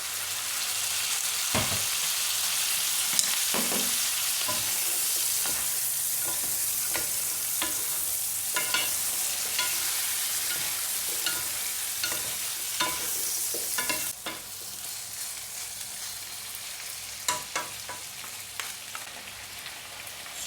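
Chicken fries in a pan with a loud, continuous hiss and sizzle, while a utensil scrapes and clatters in repeated stirring strokes over the full length.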